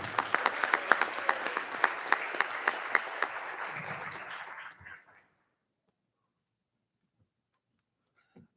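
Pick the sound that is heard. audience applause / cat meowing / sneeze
audience applause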